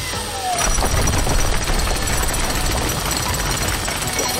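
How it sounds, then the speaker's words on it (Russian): A cartoon jackhammer pounds away at cement in a loud, continuous rapid rattle that starts abruptly and runs steadily to the end. "Ты собираешься убрать цемент своим отбойным молотком?"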